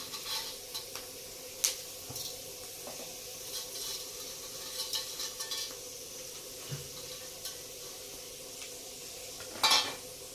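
Potato chivda, a ready-made fasting snack mix, frying in hot oil with a steady low sizzle, occasional stirring scrapes and a few sharp utensil clinks against the pan, no talking.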